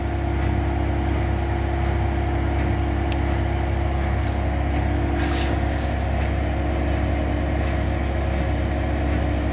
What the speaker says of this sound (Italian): In realtà la macchina sta centrifugando